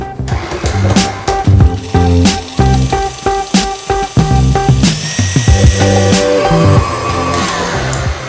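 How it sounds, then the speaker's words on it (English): An electric mixer creams butter for chewy chocolate chip cookies, a loud, close, steady motor whine with pulsing rhythmic beats as the beaters churn and knock against the bowl, running without voices. "we're gonna cream our butter until it's light and fluffy"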